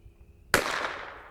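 A single sharp report from a Bergara BMR X .22LR rifle fired at a steel target, one crisp crack with a short fading tail after near silence.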